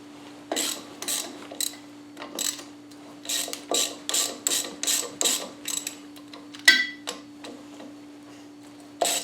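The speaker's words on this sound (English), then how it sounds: "Next, I'll take off the front pulley." A ratchet clicks through repeated short bursts of turns while the front pulley comes off a 1970 Mustang engine, the sharp pawl ticks loud and close with brief pauses between strokes, and no one speaks.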